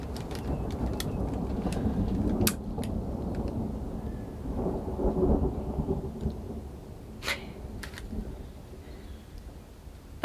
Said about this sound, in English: That's a long crack of thunder.